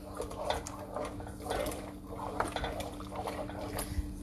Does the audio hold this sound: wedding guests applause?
no